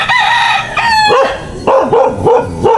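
Chickens call loudly and close by, with a drawn-out rooster crow followed by a series of rhythmic clucks and squawks.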